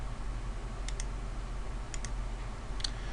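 Three pairs of quick, crisp computer mouse clicks, each pair a fast double tap, stand out faintly over a low steady hum.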